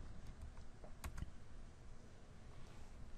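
A value tapped into a computer keyboard during a CAD modeling session, a few faint close key clicks spread through a quiet hiss, with a small cluster of taps near the middle and no talk.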